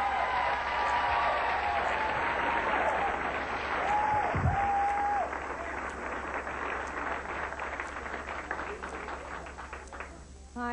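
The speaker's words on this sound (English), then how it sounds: "Let's have a nice round of applause for opening act tonight, Destiny" A comedy club audience claps for an opening act, sustained applause with cheering and a few whoops, while a host's voice briefly rises above the crowd before the clapping fades.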